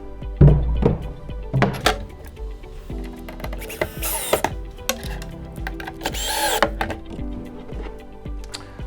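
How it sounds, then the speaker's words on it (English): Cam bolts are fitted into nylon inserts while a Cobalt Aquatics C-Vue aquarium stand is assembled, giving close, sharp knocks and thunks with brief scraping and rattling passages between them. "the first part of step 4, just like the other steps, is going to be putting cam bolts in these 2 nylon inserts."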